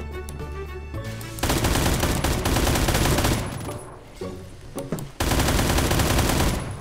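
Rapid automatic gunfire from the Phantom Forces video game during a Capture the Flag match, loud dense bursts with brief pauses and a lull midway before sustained firing resumes.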